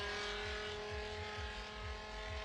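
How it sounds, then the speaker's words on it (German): A BMW E30 race car fitted with a 500 hp V10 engine comes down the track at a motorsport event, a steady loud engine drone with rhythmic pulsing low-end revs, heard on its own without talk. "ein E30 mit V10 Motor, 500 PS da drinnen. Der kommt jetzt hier runter."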